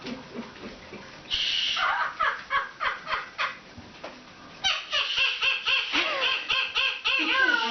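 A Timneh African grey parrot gives a series of chirpy, rising and falling calls that sound almost like giggles, close and fairly loud, in rhythmic bursts with short pauses.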